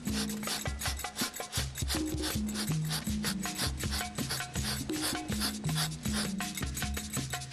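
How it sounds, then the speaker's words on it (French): A rubber tree's bark being scraped above the tapping cut, a continuous rapid rasping and rubbing close by, steady and loud throughout with no voices. "on racle la partie de l'écorce au-dessus du traçage pour être au niveau du trait"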